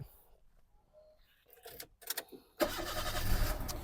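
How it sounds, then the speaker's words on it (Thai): A 2005 Toyota Avanza engine cranks after a few faint clicks and rattles, catches quickly, then settles into a steady, rumbling idle close by. "สตาร์ททีเดียวติดนะครับผม เครื่องเดินนิ่งเรียบนะครับ"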